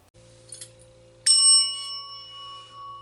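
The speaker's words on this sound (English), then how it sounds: "This is one of the few times I get to ring this bell" A single bell rung once rings out bright and close, its clear tone sustaining and slowly fading after a low steady hum that fills the moment before it.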